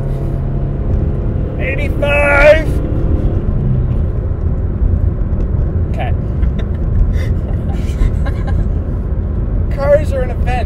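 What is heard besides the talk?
car with 2 liter engine accelerating at full throttle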